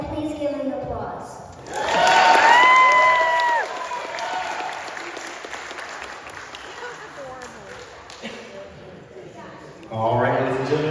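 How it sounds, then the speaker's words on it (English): Wedding guests at a reception break into a loud, sustained round of applause with cheering after a toast, fading to a lighter patter, with voices talking before and after. "please give them applause."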